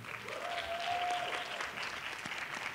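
An awards-night audience applauds scholarship winners at an arts school foundation event, a sustained wash of clapping from a large room with a faint whistle rising briefly over it.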